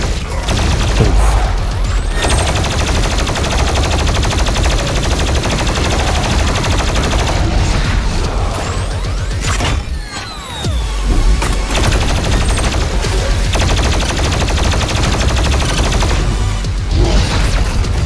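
Rapid, loud automatic gunfire from the player's weapon in the Doom Eternal video game, fighting a gladiator and marauders on Sentinel Prime, sustained bursts of blasts with booms and crashes and a brief pause midway.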